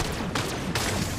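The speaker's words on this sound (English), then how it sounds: "Your AI teammate is shooting him." Gunfire in the video game Fortnite: a few sharp shots ring out in quick succession, the two clearest reports landing close together over a rumbling game background.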